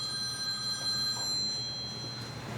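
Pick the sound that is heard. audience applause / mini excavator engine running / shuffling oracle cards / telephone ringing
telephone ringing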